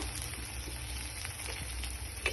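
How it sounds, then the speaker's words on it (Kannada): Onions frying in a pan for carrot palya, a steady, close sizzle with a dense crackling hiss that runs unbroken throughout, no voices. "ಒಂದು ಒಂದು ನಿಮಿಷದವರೆಗೂ ಇದನ್ನು ಫ್ರೈ ಮಾಡ್ಕೋಬೇಕು ನೋಡಿ ಇವಾಗ ಇದು ಫ್ರೈ ಆಗಿದೆ"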